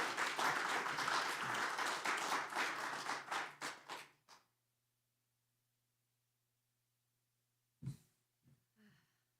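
Church congregation applauding a welcomed pastor at a Sunday anniversary revival service: dense, steady clapping for about four seconds that thins into a few last claps and stops, followed by silence and then a couple of faint taps.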